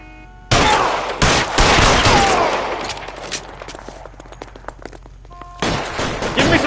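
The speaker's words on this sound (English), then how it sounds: "I'll lay down some suppression fire." Suppression fire in L.A. Noire, rapid bursts of loud close gunshots in dense volleys with short pauses, fading to scattered shots before another burst.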